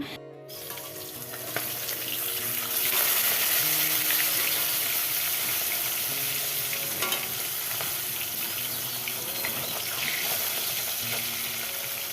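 Fish frying in hot oil in a pan, a steady, loud, continuous sizzle that runs the whole way through with a few small crackles and no talking.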